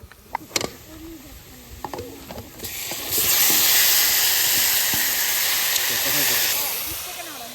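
Meat drops into a pan of fried onions at an outdoor forest cookout and bursts into a loud, steady hiss and sizzle that lasts several seconds, with a few clinks of a spatula before it.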